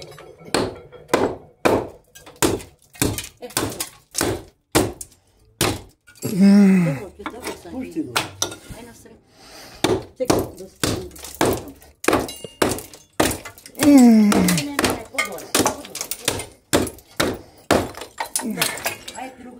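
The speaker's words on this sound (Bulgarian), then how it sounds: "Може ли да чупиш с тислата?" Repeated heavy thunking blows from an adze, roughly steady strikes with brief pauses, as objects are struck and broken; people talk and call out between hits.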